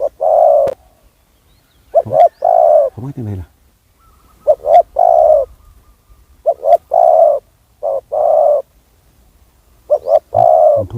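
Repeated soft spotted dove coos in short phrases, fairly close, with brief pauses between calls and a few quiet words spoken among them.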